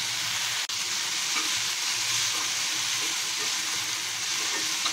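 Tamarind, fried lentils and mint sauté in a pan with a steady, close sizzle and occasional stirring that lasts throughout.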